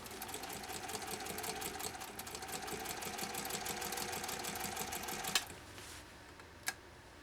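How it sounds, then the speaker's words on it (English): A 1930 Singer 101-4 sewing machine stitches through canvas, a steady fast mechanical whir with rhythmic ticking, then stops, followed by a couple of brief clunks. "beautiful sewing job with this 101-4"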